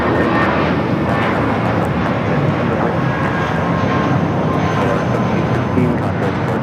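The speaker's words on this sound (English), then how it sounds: "1715 taking off to Guadalajara on the A320" A Volaris Airbus A320 takes off from LAX bound for Guadalajara, a loud sustained jet engine roar with broad rushing noise that holds steady throughout, heard alone without speech.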